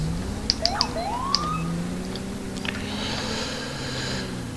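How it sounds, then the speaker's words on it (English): Police car siren in GTA V with the LSPDFR mod, brief tapped whoops and chirps early on rising and falling over an engine drone, then fading to traffic noise. "That's kind of why you just tap your sirens."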